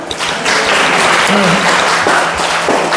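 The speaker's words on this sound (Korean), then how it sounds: "우리 다 같이 박수." A church congregation applauds together, a loud, dense, sustained wash of clapping with a few voices mixed in.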